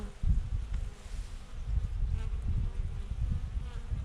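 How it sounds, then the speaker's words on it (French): A medium swarm of honey bees buzzing in a steady low drone, close and continuous, with no voices over it. "Effectivement, j'ai un essaim."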